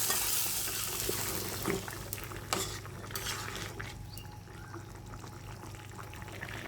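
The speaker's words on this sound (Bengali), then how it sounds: "ফোড়নটা এটা আমি এখন দিয়ে দিচ্ছি" Tempering spices hit hot oil in a pan for a shrimp and pumpkin curry, giving a loud steady sizzle with a few sharp clinks and stirring scrapes, close up and without speech.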